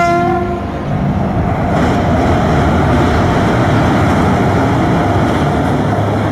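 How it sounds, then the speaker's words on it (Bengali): A train rumbles loudly and steadily over a bridge above a river, its heavy droning roar filling the scene, with a brief horn-like tone at the start. "আবার একটা ব্রিজ বেরোচ্ছে ট্রেন"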